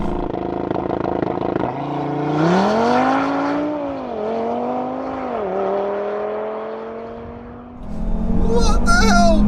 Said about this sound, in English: Launch control, 3000 RPM. Let's go!